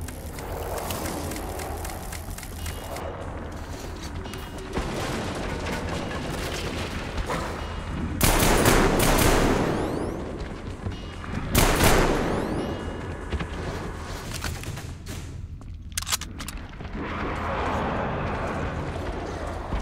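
Gunfire in Metro Exodus, sporadic shots and loud bursts in a subway setting, with two or three strong blasts standing out over steady game noise and background rumble.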